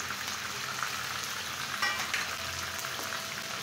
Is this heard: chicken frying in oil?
yes